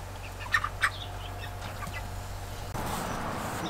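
Meat chickens give a few brief, soft clucks near the start, then the yard goes to a steady outdoor hum and wind noise.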